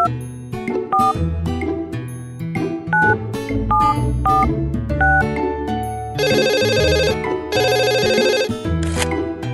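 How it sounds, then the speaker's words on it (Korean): Telephone in a Tayo kids' game dialing the hospital: a run of bright electronic beep tones, followed by two long, loud ringing bursts. "숫자를 눌러 병원에 전화를 걸어주세요."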